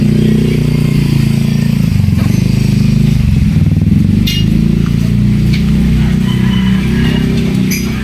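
A motorcycle engine rumbles nearby at a busy street market, a steady, loud low drone running throughout with occasional light clinks and clatter.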